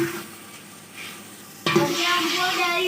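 Masala frying in a pot for mutton white pulao: soft scraping strokes give way to a sudden loud, steady sizzle as the spices are stirred and fried close up.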